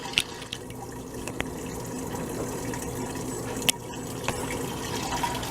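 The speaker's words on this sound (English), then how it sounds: "the water just swirls and swirls, and it reduces the concentrates down to there's just the heavies" Water swirling steadily in a blue bowl gold concentrator, a constant trickling, splashing wash with a few sharper drips and clicks, close and moderately quiet.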